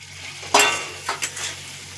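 Potato pieces dropped into a pan of cooked-down spice paste for a Bengali potato jhol, giving a sharp sizzle burst, then softer scrapes and stirring clatter as the frying settles.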